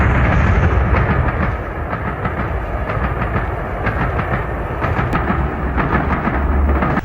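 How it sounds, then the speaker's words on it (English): A Crab class locomotive hauls an express passenger train downhill on the Settle and Carlisle line at Gargrave, giving a loud, steady, close rumble with rhythmic clatter throughout. "A crab descends with an express passenger service."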